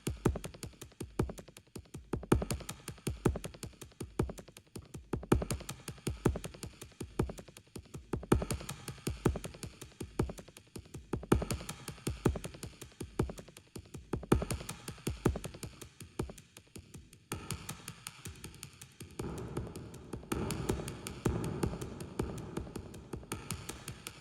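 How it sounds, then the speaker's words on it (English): A percussive loop processed with a reverb effect in Ableton: a rapid, regular pattern of hits whose tails smear into a washy, sustained ambience, moderately quiet and with no talking. "you could do a reverb on this."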